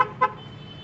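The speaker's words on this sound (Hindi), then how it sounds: "सुनिएगा इसकी आवाज़, तो एक क्रिएटर टाइप के इसके हॉर्न्स हैं।" Two short, nasal honks from an aftermarket horn fitted to a Renault Triber car, a quick double toot heard close up, then a quiet low hum.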